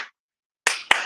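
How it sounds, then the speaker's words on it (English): Two sharp hand claps in quick succession, close and fairly soft, after a brief moment of quiet. "I want you to clap 2 times."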